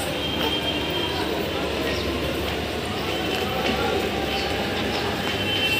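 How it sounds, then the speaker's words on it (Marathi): A fast Mumbai local train bound for Chhatrapati Shivaji Maharaj Terminus runs through a station, making a close, loud, continuous rumble with a steady rattle of wheels on rails that holds from start to finish. "मुंबई छत्रपती शिवाजी महाराज टर्मिनस जाने वाली तेज लोकल"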